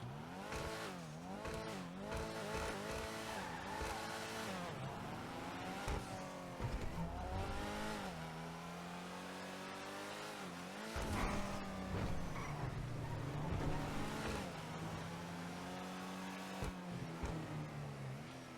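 Ocelot Ardent sports car engine in GTA Online revs repeatedly with rising and falling pitch sweeps, accelerating with brief tire squeal, loud and close throughout.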